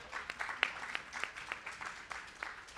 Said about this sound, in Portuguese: Palmas para as matriarcas.